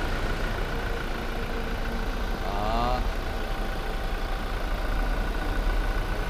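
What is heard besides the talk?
Toyota Fortuner 2.4G 2019 diesel engine idling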